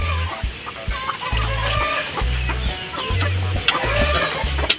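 Hens cluck around a new nest in a backyard coop with a tin roof, busy overlapping low clucks and short calls close by, with no talking.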